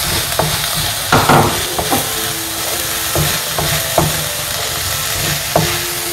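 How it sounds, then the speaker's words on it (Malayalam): Chopped green chillies are stirred into ginger, onion and garlic frying in a pan, with a steady sizzle under repeated scraping and clinking strokes of a spoon, and no talk. "ഇതിലേക്ക് ചോപ്പ് ചെയ്ത് വെച്ച് പച്ചമുളക് കൂടെ കൊടുക്കാം."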